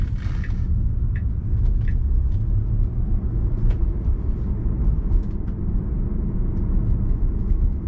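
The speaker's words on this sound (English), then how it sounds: "It accelerated to the speed limit pretty quickly" A Tesla on Full Self-Driving pulls away and accelerates up to the speed limit, with a steady low road and motor rumble filling the cabin and faint ticks above it, no talking.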